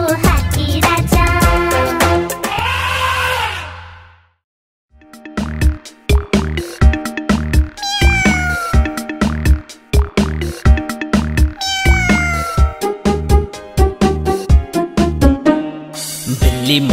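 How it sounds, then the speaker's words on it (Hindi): Cat meows ring out within an upbeat Hindi children's rhyme, sung and played over a bouncy backing track, loud and close, with a brief pause midway. "बिल्ली मौसी कहो कहां से आई हो"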